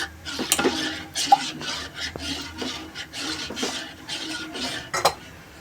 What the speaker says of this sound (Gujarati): અને સતત હલાવતા રહેવાનું, કારણ કે મકાઈનો લોટ હોય એટલે નીચે ચોંટી જાય